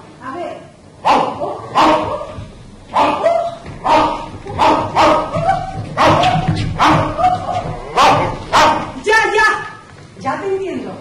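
A man playfully imitates a dog, voicing repeated "woof" barks in a lively, rhythmic string of yaps and bow-wows, close and loud, mixed with bits of his own speech.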